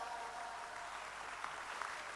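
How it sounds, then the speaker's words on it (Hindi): An audience at a kavi sammelan poetry gathering, part of a music and dance festival in Vrindavan, gives a faint, distant, steady wash of applause for a poet. "एक बार उनके लिए भी जरा मन भर के तालियां बजाएं।"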